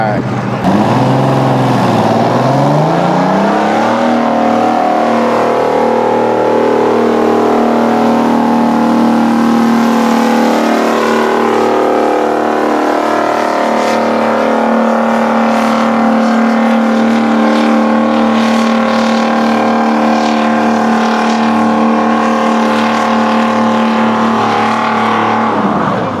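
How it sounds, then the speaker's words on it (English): A huge V12 two-stroke diesel engine on a John Deere 5012 tractor runs loudly up close, a deep sustained roar with a pitch sweep near the start, then steady throbbing drone. "V12 two-stroke diesel. That's something else."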